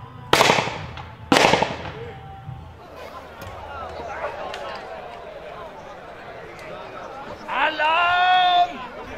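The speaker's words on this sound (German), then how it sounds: "Reihenfeuer von links nach rechts." Two sharp musket volleys crack out near the start of a reenactment of the 1631 defense of Magdeburg, followed by outdoor crowd noise and distant commotion, then a brief tonal horn-like call near the end.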